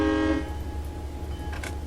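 A short horn blast sounds from a locomotive in Train Simulator 2015, loud for about a third of a second, then fades to a low engine rumble with a faint ring near the end.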